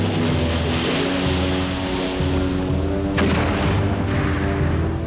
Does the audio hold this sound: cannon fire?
yes